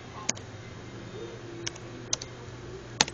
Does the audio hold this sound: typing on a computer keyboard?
yes